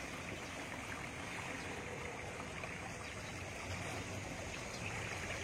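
Floodwater in Tenghilan still flowing fairly swiftly through a flooded area, a steady broadband rushing wash with no breaks, moderately faint and continuous, without talk.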